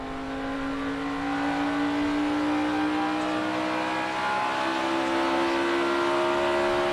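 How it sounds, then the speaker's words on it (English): A NASCAR Sprint Cup stock car engine at Pocono lugging after a late gear shift during a restart, a steady loud drone whose pitch climbs slowly and evenly throughout, with no voices. "Yeah, you could hear the engine really lugging there."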